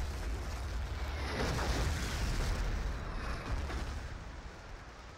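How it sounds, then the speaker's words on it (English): Artillery strike landing on a flag area in a Battlefield 2 conquest match, a sustained loud roar of explosions and rumbling blasts that slowly eases off. "Artillery will drop from Scandi onto the flag radius"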